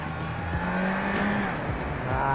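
Kawasaki Z1100 four-cylinder street motorcycle accelerating, engine note rising and stepping through gears with shifting pitch, moderately close, over road and wind noise.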